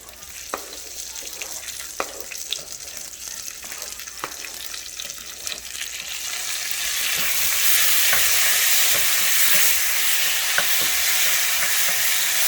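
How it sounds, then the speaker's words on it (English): Tomatoes tipped into a pan of frying chiles and onion, quiet scraping and tapping stirs first, then a loud bright sizzle swelling up and holding steady. "Now we're going to go ahead and dump in the tomates."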